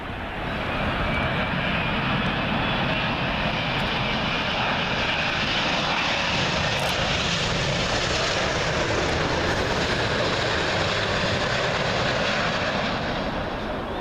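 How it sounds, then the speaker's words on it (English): A British Airways Boeing 777 arriving from Seattle on runway 27L at Heathrow Airport gives a loud, steady, broadband jet roar that holds for the whole stretch with no voices. "Next up, British Airways 777. And this one is all over the place, but arriving from Seattle."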